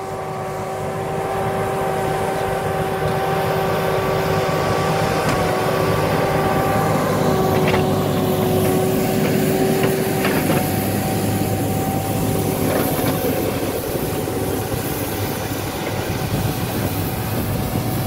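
A tractor runs steadily while driving a power harrow and seed drill in a field, giving a loud, continuous engine drone with a sustained tonal whine throughout and no talking.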